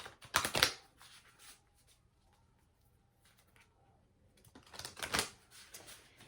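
Two short bursts of riffling tarot cards, one at the start and one near the end, with quiet rustling in between.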